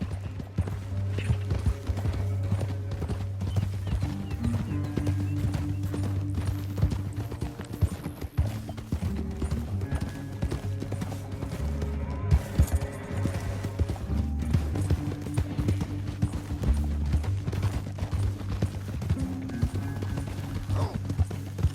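Steady clip-clopping horse hooves in the video game Red Dead Redemption 2 over a continuous low drone and music-like ambience, with an occasional horse snort or whinny.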